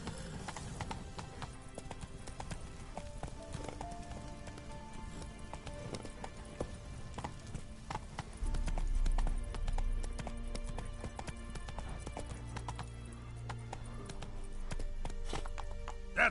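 Roach, the horse in The Witcher 3, gallops with a rapid, rhythmic clip-clop of hooves that runs throughout, thickened by a deeper rumble partway through.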